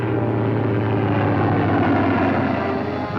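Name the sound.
Fleet Air Arm planes flying, 1944 film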